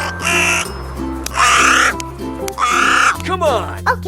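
Crow cawing in an animal rescue escape room challenge: three loud, harsh caws spaced about a second apart, close and prominent over a low background drone.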